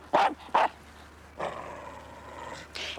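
A dog barks twice in quick succession, sharp and fairly close, followed by a longer, softer whining or yipping sound and another bark at the end, set in a quiet indoor scene.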